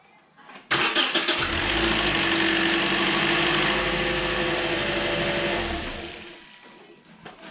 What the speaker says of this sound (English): I'm gonna start the engine, so that will fill up the oil filter in the bottom